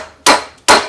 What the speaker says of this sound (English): I take my soft blow hammer and I just tap up on it.